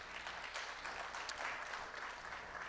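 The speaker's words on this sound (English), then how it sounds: "A round of applause just for that number." An audience at an EdTech fellowship event gives a round of applause, a soft, distant, continuous patter of many hands at low level throughout.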